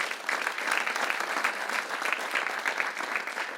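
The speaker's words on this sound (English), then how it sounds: "Have an applause for both of them." Steady, dense applause from a crowd, continuous hand clapping at an even level throughout with no talk over it.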